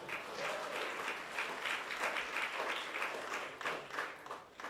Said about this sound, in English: Round of applause for equality, then.